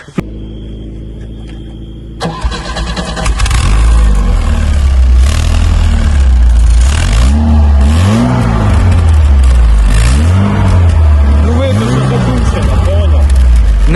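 A VAZ 2107 car engine idles after a quiet start, then runs loud with repeated rising and falling revs and a deep exhaust rumble, up close.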